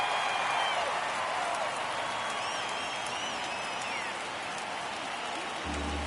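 Stadium crowd in MLB The Show 23 baseball game, a steady roar of cheering and applause that holds loud and continuous through a tense ninth inning of a one-run game.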